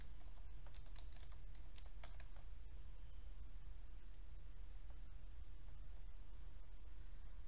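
Steady computer keyboard typing, with quick bursts of key clicks near the start and lighter tapping continuing over a low hum for the rest of the stretch, no voices.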